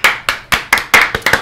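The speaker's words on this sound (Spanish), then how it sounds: "Bombi, un aplauso" A handful of sharp, evenly spaced hand claps, about seven in a quick steady rhythm, ring out close and loud in a Spanish-language radio studio during a live Saturday show, with no talking over them.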